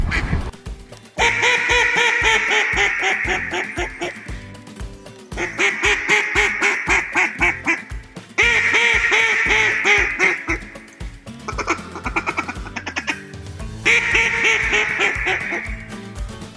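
A duck call imitates a hen duck's quacks in loud, close bursts, several long sequences of rapid nasal quacking separated by short pauses, with a brief different call near the end.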